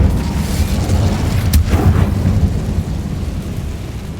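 An Incendio fire spell blast in Hogwarts Legacy: a rumbling, boomy roar with a sharp crack partway through, then a sustained low rumble that gradually settles.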